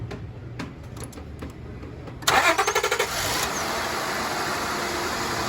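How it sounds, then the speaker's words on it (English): A 1999 Acura TL engine cranks briefly with a rapid chugging rhythm, then catches and settles into a steady, loud idle that continues to the end, with faint ticking before the start. "start the car"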